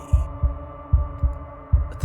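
Wooden, fleshy heart from the video game Slay the Princess thumping in a steady, unbroken double-beat rhythm, deep and close, over a low droning hum.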